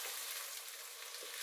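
Onions sizzle steadily in a frying pan as they are stirred, a close, even hiss with no voices.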